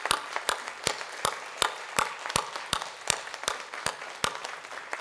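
A few slow, evenly spaced claps ring out in a conference hall at a nursing leaders' town hall, sparse and moderately near, with no voices.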